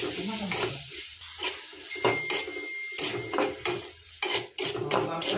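Tomato pieces for sambar sizzle in a hot pan while a spoon stirs them, with repeated sharp metallic scrapes and clinks against the pan over the steady frying hiss, close and clear.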